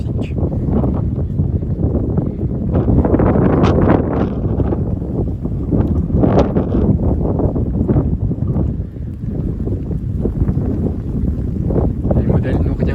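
Strong wind gusts roar and buffet against the microphone in waves during a surprise hailstorm, loud and turbulent, with someone talking over the rushing noise.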